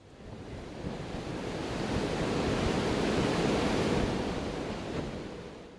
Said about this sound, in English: the wake in the ocean behind you